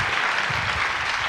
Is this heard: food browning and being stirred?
no